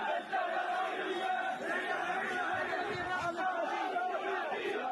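A large crowd of Gazan protesters marching and chanting against Hamas rule in northern Gaza, a dense, steady roar of many voices sounding somewhat distant and muffled.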